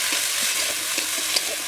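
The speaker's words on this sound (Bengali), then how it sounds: "মশলাটা ভাজা হয়ে গেছে" Spice paste of ginger, green chilli and garlic frying in oil for a samosa filling, a steady close sizzle with faint stirring scrapes throughout and no voices.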